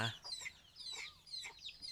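Chickens cluck and chirp in short bursts at a farm, fairly faint and close, with a few separate calls over a couple of seconds.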